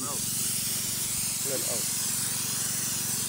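A herbicide sprayer hisses steadily as it sprays weeds among garden plants, a constant close broadband spray sound that continues under a voice speaking in Filipino.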